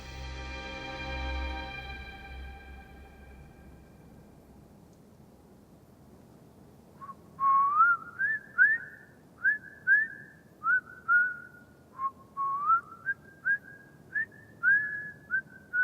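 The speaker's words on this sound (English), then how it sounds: "During the selection on the platform, Dr. Mengele whistled his favourite melody, the Blue Danube Waltz." A lone man whistles the Blue Danube Waltz, a clear, moderately loud tune in short rising and falling phrases that starts after several seconds of low rumble and quiet.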